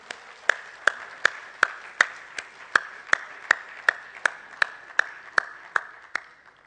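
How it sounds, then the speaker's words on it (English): Audience applause for a presenter at an event, heard as a steady run of crisp, evenly spaced claps, about two or three per second, close and fairly loud, with no talking. "maybe I have a round of applause for CA Panchu."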